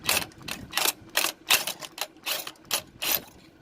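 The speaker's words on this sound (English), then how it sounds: "I've got an impact gun here with a size 22 nut, size 22 socket. I'm just going to try and impact it and see if it will come off" An impact gun with a 22 mm socket removing a pulley nut during air pump work on a Mercedes-Benz W124 300CE 24, giving rapid rattling bursts of hammering in short repeated pulses, close and loud.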